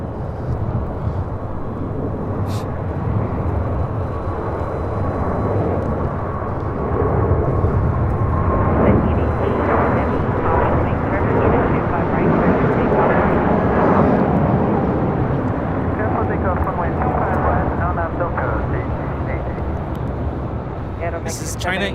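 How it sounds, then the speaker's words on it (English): A China Eastern Boeing 777-300ER bound for Shanghai takes off at Los Angeles airport, its broad jet engine roar loud and steady throughout, swelling in the middle, with voices talking over it. "This is China Eastern Airlines 586 taking off to Shanghai on a 777-300ER"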